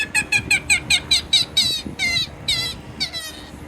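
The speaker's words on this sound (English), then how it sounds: "We are playing bird calls from the birding app to call birds over" Recorded bird calls play from a phone birding app outdoors in the Florida Keys, a quick series of about a dozen sharp, squawky chirps in an even rhythm, clear and fairly loud, with no talking.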